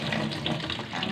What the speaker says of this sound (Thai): เสร็จแล้วเราก็ล้างน้ำสะอาดสะอ้านอยู่แล้ว